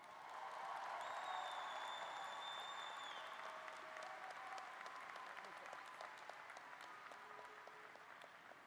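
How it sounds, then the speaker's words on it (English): A commencement audience for a college class of 2024 applauds in a steady, even patter of many hands; the clapping sounds distant and faint, as from a large hall, and carries on for several seconds before thinning slightly. "How about another round of applause for our student speaker?"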